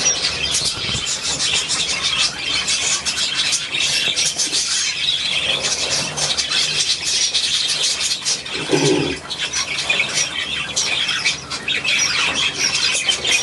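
A bird squawks and squeals amid a constant hiss during a breakfast scene, with a few brief sharper calls and no voices.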